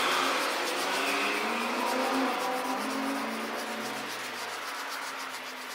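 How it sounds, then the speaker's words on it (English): A buffing wheel polishes a car fender after wet sanding, giving a continuous close whirring, rubbing drone that holds steady and eases off slightly toward the end, with no voices. "buffing is basically with the wheel,"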